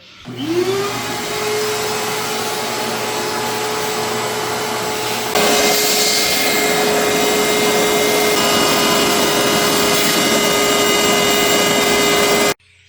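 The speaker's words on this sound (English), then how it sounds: "I get the shop vacuum and I will be trying to get everything out from there" A shop vacuum starts up and runs with a loud, steady whine, its pitch shifting partway through as it sucks up dirt from a Yamaha XT1200Z Super Tenere motorcycle, close by, then shuts off.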